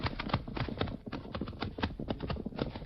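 Horse hooves clip-clop in a radio drama sound effect, a close, steady run of hoof beats at a walking pace, fairly quiet, with no voices over it.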